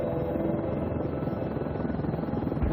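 Police helicopter overhead, a steady, loud rotor drone with dense low thudding that holds constant throughout, alone without voices.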